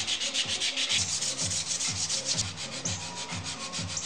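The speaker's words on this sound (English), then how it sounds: "I think I'm done sanding" Hand-sanding a carved wooden utensil: rhythmic back-and-forth rubbing strokes, about two per second, close and fairly quiet, with no speech.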